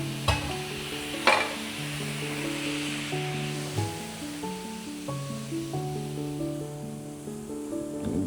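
Dosa batter sizzles on a hot tawa over a lowered gas flame, a steady frying hiss lying under a stepping melodic music track that runs the whole way.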